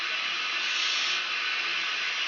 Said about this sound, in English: As you can see, she's a marvellous steam locomotive.